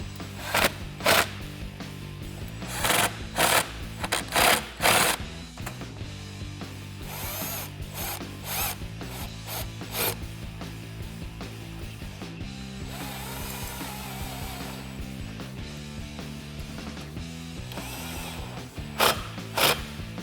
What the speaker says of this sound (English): now we're going to tighten up these clamps up here by the throttle body